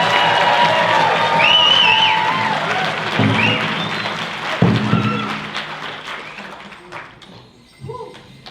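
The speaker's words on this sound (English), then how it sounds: "So let's get a bigger round of applause for them." Applause for the Hill Creek drum group at a Ute powwow, a crowd clapping loudly and steadily before the sound thins out and tails off, with a few cheers and a voice speaking over the dying claps.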